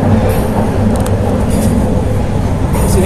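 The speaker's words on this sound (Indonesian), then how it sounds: "Ini kereta melaju kisaran sekitar 20 km per jam." A light-rail train rolls along at roughly 20 km/h at night, giving a steady low rumble of wheels and car noise with a faint high squeal now and then.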